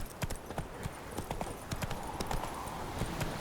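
Horse hooves clip-clop steadily in The Witcher 3 as the horse is urged on, a close, even trotting rhythm over a constant background bed.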